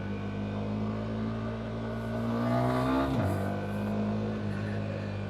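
A 2025 Yamaha R125 motorcycle fitted with a quickshifter accelerates, its engine note climbing steadily, then a quick upshift drops the revs abruptly before it pulls again, heard close from the rider's position with wind noise.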